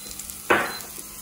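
Garlic, ginger and scallion hit a hot pan in a sudden burst of sizzling that fades quickly, a single close frying hiss over a quiet kitchen background.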